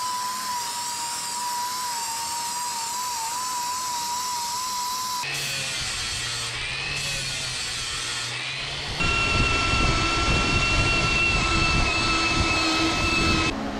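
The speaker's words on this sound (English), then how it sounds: "I'm gonna go ahead and do a little more polishing" A power polisher works parts on a 1970 GMC truck and a 1959 Dodge. It makes a steady, close, high-pitched whine that shifts pitch as load changes, then grows louder and rougher in the last few seconds.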